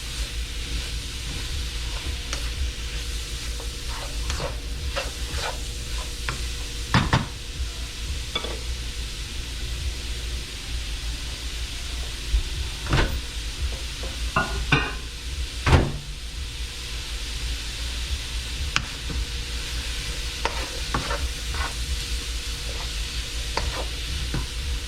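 Shrimp and garlic stir fry cooking in a pan with fresh garlic and garlic powder, giving a steady close sizzle with intermittent scrapes and stirring clatters throughout.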